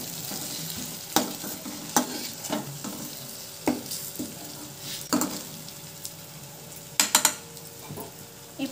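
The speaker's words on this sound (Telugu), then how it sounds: "ఇప్పుడు గరిటెతో కలియబెట్టాలండి. బాగా కలియబెట్టుకోవాలి." A ladle stirring egg masala curry in a pan, scraping and knocking against the metal in irregular strokes over a soft, steady sizzle, with a quick cluster of clinks near the end.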